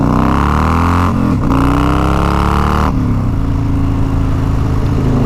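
Harley-Davidson Fatboy motorcycle with a 140ci motor cruising on the highway, its loud, close engine droning steadily, with a brief dip in pitch before settling into a lower, continuous rumble.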